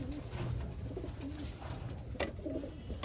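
Pigeons, fresh Wantai birds, coo in soft, low, repeated throaty phrases close by, over a steady background hum, with a brief sharp click near the end.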